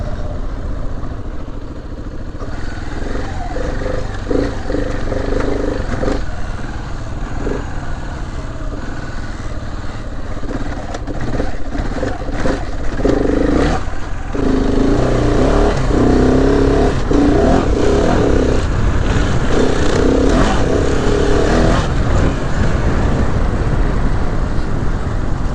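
A motorcycle ridden slowly through a muddy trail drones steadily and fairly loudly, its engine note surging and easing as the rider works the throttle, with no talking.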